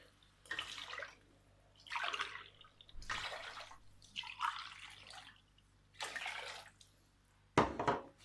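Water poured in from a cup onto peas and rice in a cooking pot for matar pulao, arriving in six separate splashing pours with short pauses between, close and moderately quiet.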